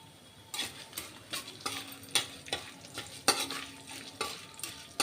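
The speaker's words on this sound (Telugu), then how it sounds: "దోరగా వేయించాలి." Mustard seeds, cumin and urad dal tempering in a pan with garlic, a quiet continuous sizzle punctuated by regular spatula scrapes and taps, close up.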